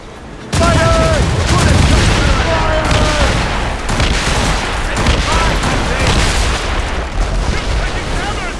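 Ship cannons boom in a naval battle in Assassin's Creed Rogue, a dense, loud fusillade of repeated blasts with rumbling gunfire under shouted voices and crew calls.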